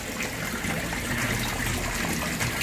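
Water pours steadily from four flood-and-drain aquaponics grow beds, a continuous rushing splash of moderate loudness with no breaks and no voices.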